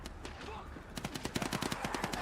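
Rapid automatic gunfire from the video game Warframe, with a few scattered shots building into dense, loud bursts of repeated fire.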